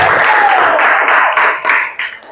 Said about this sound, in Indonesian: Silahkan kita kasih aplaus kepada kalian semua.